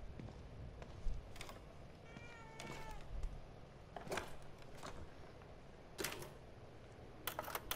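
A cat meows in the horror video game The Evil Within 2, a few short rising mewing calls set against a quiet, faint ambient background with scattered clicks.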